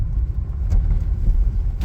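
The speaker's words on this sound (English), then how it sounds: "Even a speed bump, a little too quick" A Chevrolet Corvette 2LT rolls over a speed bump a little quickly, with a steady, loud low engine and road rumble heard from inside the car and a brief thump near the middle.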